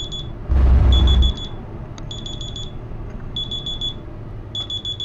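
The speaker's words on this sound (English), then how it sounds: "that was my alarm." An alarm going off in repeated bursts of rapid high electronic beeps separated by short pauses, with a loud low thump early on and a faint background hum.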